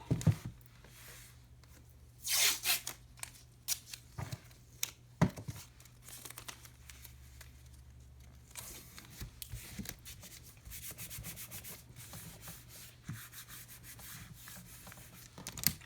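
Tape pressed and rubbed down over embroidery on an in-the-hoop bag project, a soft scraping and crinkling texture with a few sharper crackles and rubs near the start, fairly quiet and close, with no talk.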